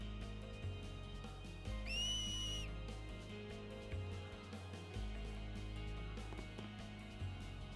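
A sharp finger whistle in the video game Final Fantasy X rises and holds for under a second over a soft game soundtrack, standing out clearly before the music carries on alone.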